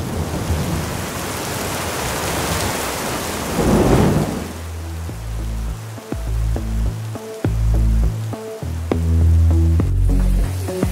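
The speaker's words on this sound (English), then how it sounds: "We just arrived in Unawatuna and it's raining crazy." A heavy tropical downpour in Unawatuna, Sri Lanka, with a dense hiss of rain and a deep rumble of thunder swelling midway, followed by loud drops drumming irregularly on a nearby surface.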